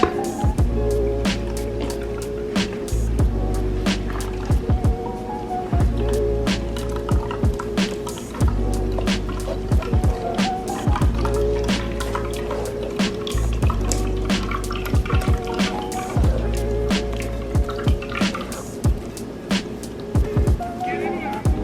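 Carrot juice, made with ginger and lime, drips and trickles through a strainer in a steady wet patter, layered with a continuous tonal background sound for the whole stretch.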